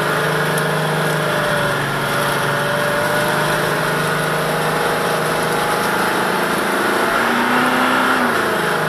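A Toyota V8 diesel engine held at steady high revs while stuck off-road and not moving, a loud continuous drone with slight pitch shifts and no speech.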